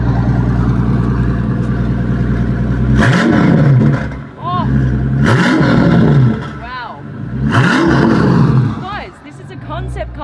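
A Maybach Exelero concept car revved hard in three loud, close bursts, each a deep roaring rise and fall between rumbling idle, while a person exclaims under the engine.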